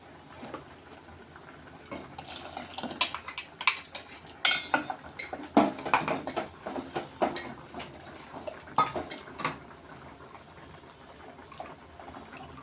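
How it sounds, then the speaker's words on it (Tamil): Wet scraping and clinking of a utensil against a metal pot, with soft splats and dabs as thick ground coconut paste is scooped and poured in, no talking. "இப்போ அரைத்த தேங்காய் விழுத உள்ளே ஊற்றிக்கலாம்"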